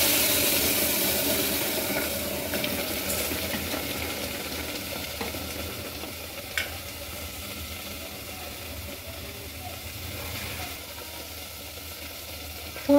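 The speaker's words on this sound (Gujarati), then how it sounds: "હવે જે આપણે આ જે દાળ બાફી અને રાખી હતી તે આ જે આપણે વઘાર કર્યો છે તેમાં" Boiled toor dal goes into a hot tempering in a pan, giving a loud, continuous sizzle and frying hiss that slowly eases over several seconds, with no talking.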